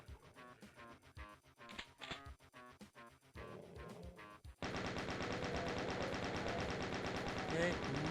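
Gunners firing in Ultimate Doom, sparse shots and clatter at first, then a loud continuous burst of rapid machine-gun fire that fills the second half, with a voice talking over it.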